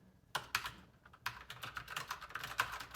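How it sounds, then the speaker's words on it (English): Fast typing on a mechanical computer keyboard connected to a MacBook, a close run of crisp, uneven key clicks in quick bursts. "how quickly I can now immediately get in and type"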